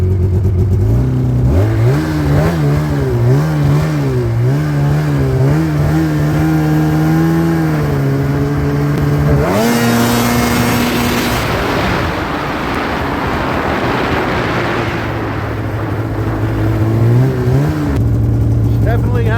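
A two-stroke snowmobile engine idles with a rough, uneven rhythm, revs up and down, then roars louder as the sled pulls away on a first shakedown ride, ending in a steady drone.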